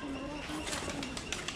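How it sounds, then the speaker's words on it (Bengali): Pigeons coo softly in repeated low calls among the trees and enclosures of Mirpur National Zoo, with people talking nearby over the birds. "ওই যে উপরে দেখো অনেক কবুতর"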